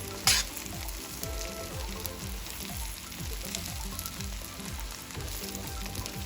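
Shrimp fried rice with ginger sizzles and crackles steadily in a hot pan as soy sauce is added, with rhythmic scraping stirs throughout and no talking.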